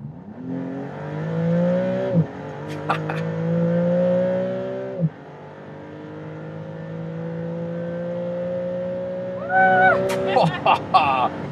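Maserati MCPura supercar engine pulling hard on the Autobahn, a loud sustained drone rising in pitch through gears with brief shift breaks, then a higher revving burst near the end.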